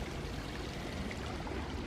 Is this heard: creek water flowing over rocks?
yes